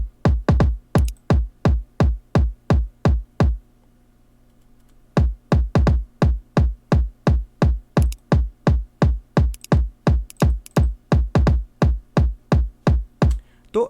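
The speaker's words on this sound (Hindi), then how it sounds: "ये सैचुरेटेड आवाज़ है" A music mix with wave shaper saturation switched on plays a punchy, distorted kick drum pattern of rapid, evenly spaced thumps, loud and upfront, with a short pause partway through before the beat resumes.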